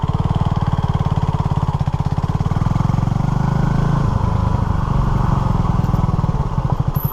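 A 43-year-old Honda CB250RS motorcycle is ridden off-road along a green lane, its small engine thrumming loud and near in a steady rhythmic pulse, with slight changes in pitch as it pulls along.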